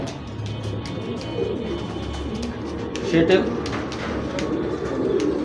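Saddle pied racing pigeons coo nearby, low burbling calls recurring through the clip beneath someone speaking.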